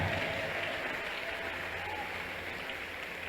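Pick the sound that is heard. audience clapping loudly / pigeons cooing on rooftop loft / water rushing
audience clapping loudly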